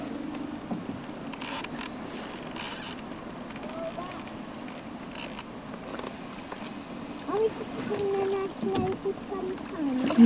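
A boat paddled on water, with faint splashing strokes under a steady background wash, people talking nearby and goose-like honks toward the end.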